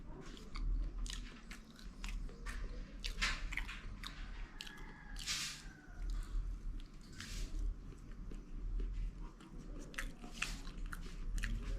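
Close, soft bites and chewing of roasted sweet potato cooked over a fire, irregular moist crunches and squishes repeating over several seconds with no talk.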